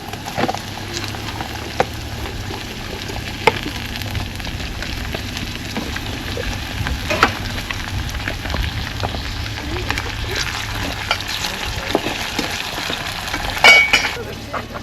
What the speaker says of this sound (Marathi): कांदा छान ब्राऊन झाल्यानंतर मी तंबाटा टाकत आहे